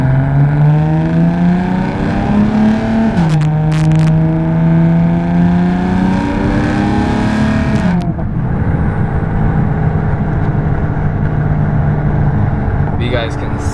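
A BMW fitted with ARM resonated downpipes and an Active Autowerke equal length mid pipe cruises through town, its exhaust droning steadily with rising and falling engine tones and a gear change, heard from close up over continuous road noise.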